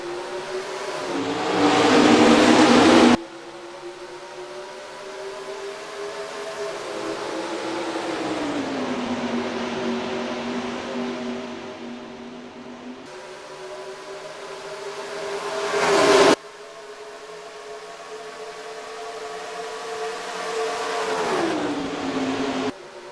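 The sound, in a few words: stock cars racing at Texas Motor Speedway in NR2003 video game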